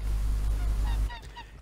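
Pelicans honk in Red Dead Online's bayou country, a few short nasal calls ringing out at moderate distance over a steady low game ambience, with no talk.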